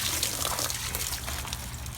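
Water running through a homemade koi pond filter stacked with layers of filter pad, a steady close trickling and splashing flow, moderately loud with no talking.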